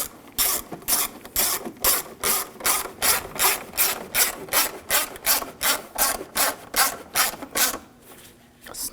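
A hand ratchet clicks in a steady, rapid rhythm while tightening thermostat housing screws on a 2007–2013 BMW 328i 3.0L, close and clear with about two dozen even strokes and no talking.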